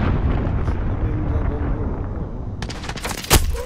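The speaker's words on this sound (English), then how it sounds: "Enemy cruise missile incoming." A cruise missile explosion in Call of Duty: Modern Warfare (2019), with a dense rumbling barrage giving way to a sharp, loud blast near the end amid other game noise.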